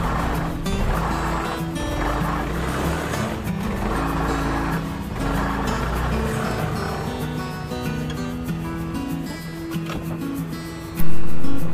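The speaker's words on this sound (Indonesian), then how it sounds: "itu bunyinya seperti kayak fan bell slip dan gesekan besi lawan besi" A Yamaha NMAX scooter engine runs close by with a rough, uneven whirring and scraping metal-on-metal grind from a slipping CVT belt, pulsing steadily for several seconds before a sudden louder burst at the end.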